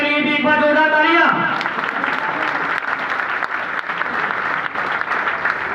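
Audience at a business group meeting bursts into loud, dense applause that keeps going for several seconds, following a short amplified spoken phrase at the start.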